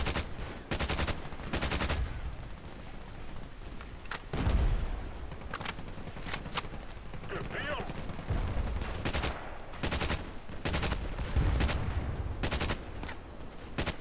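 AK-47 assault rifle fire in the online shooter Battlefield Play4free, with repeated short bursts and single cracks spread across the stretch, some sharper booms among them, under steady game ambience with possible faint voices.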